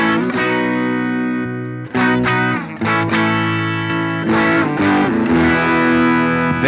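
Electric guitar played through a BOSS GT-1000 with three stacked gain stages gives thick, saturated, sustained chords and notes with brief pauses between strummed phrases, heard clearly on their own with no talking.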